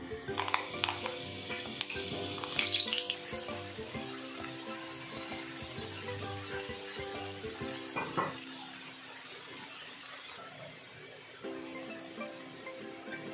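Fenugreek seeds sizzle in hot oil for a tempering for besan kadhi pakode: a soft, steady frying hiss with occasional stirring clinks against the pan, a little louder at the start.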